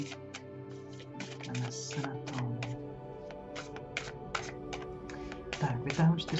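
Tarot and angel oracle cards are shuffled by hand, making quick clicking, riffling bursts in irregular clusters while someone talks in Czech.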